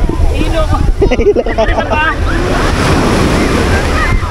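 Sea waves breaking on a beach at Laiya, Batangas, a loud washing surf with strong wind buffeting the microphone and people's voices mixed in.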